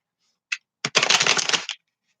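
Tarot cards are shuffled up close: a couple of brief taps, then a dense, crisp riffle of card edges lasting under a second.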